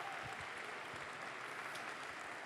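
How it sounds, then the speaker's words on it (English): Faint, steady applause from an audience at an award ceremony honoring a university sorority chapter, a soft continuous wash of distant clapping. "Let's give them a round of applause."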